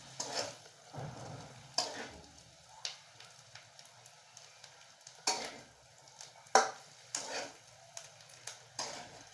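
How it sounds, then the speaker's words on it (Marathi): Potatoes stir-fried with spices in hot oil in a pan, giving soft intermittent scraping and stirring strokes over a faint, low sizzle, fairly quiet and close. "थोडंसं 2 मिनिटं चांगलं असं परतून घेऊया, म्हणजे मसाले ह्यात परतले जाते तेलात"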